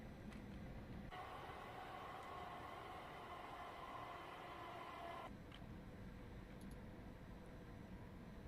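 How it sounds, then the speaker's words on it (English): A freight train rolls past, heard as a steady rumbling wash of wheel noise and clatter that holds for several seconds, then drops to a lower ongoing rumble, with no talk. "Always good to see a bit of freight coming through."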